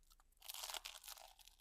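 A single crunchy bite into cooked frog followed by brief chewing, close to the mouth and quiet, with a crisp burst of crackle tapering off.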